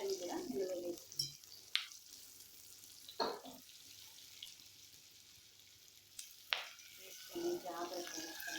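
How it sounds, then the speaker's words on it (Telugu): Brinjals drop into hot masala in a pan and fry with a steady, moderate sizzle, broken by a few sharp clinks and stirring scrapes. "ఇప్పుడు మనం ఈ వంకాయలను కూడా ఇందులో వేసుకుందాం."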